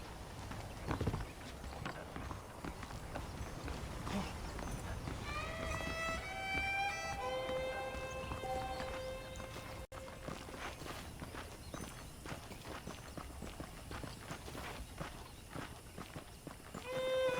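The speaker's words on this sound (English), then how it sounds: "The horses are saddled up over here" Saddled horses' hooves clip-clop steadily at a walking pace throughout in Red Dead Redemption, fairly quiet, with a faint melodic tone rising in the middle.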